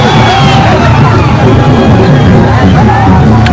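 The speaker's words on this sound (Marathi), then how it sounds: "तर भरपूर भक्तांचा जल्लोष आहे" Devotees cheer at the Bahiridev village temple fair in Vadhav, a loud, dense crowd roar with overlapping voices and whoops that holds steady throughout.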